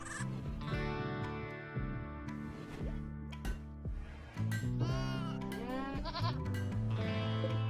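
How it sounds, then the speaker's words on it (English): Goat bleating in RimWorld, several wavering, nasal bleats and animal calls that overlap one another, fairly close over steady farmyard background tones. "Is that an unnamed goat that I see?"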